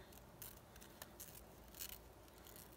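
Scissors snipping along the edge of paper for a planner craft, a few quiet, crisp cuts close by with no talking.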